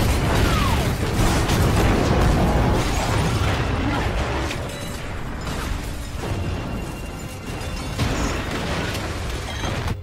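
A big explosion set off when a bomb is shot in a film action scene, a dense, loud roar of blast noise and rumbling debris that fills the whole stretch, easing slightly midway before swelling again.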